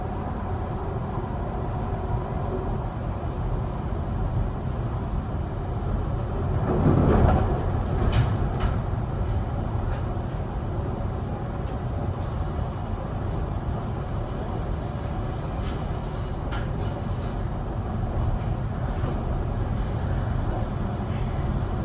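A metro train pulls into Tallawong terminus station, a steady loud rumble and rolling wheel noise from inside the carriage that swells briefly partway through and then holds an even drone.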